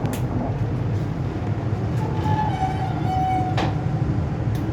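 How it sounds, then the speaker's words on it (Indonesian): Aboard the Blambangan Express passenger train as it departs Cirebon station, a steady, loud low rumble fills the cabin, with a thin wheel squeal rising briefly in the middle. "Bogowonto melintas, kita juga ikut berangkat meninggalkan stasiun Cirebon."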